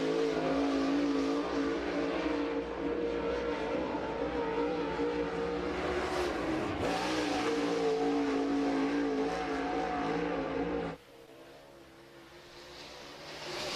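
Race cars lap Cherokee Speedway with a continuous loud engine roar that swells and recedes as they pass, then drops sharply to a quieter drone near the end.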